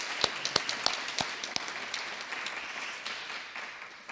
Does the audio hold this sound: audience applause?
yes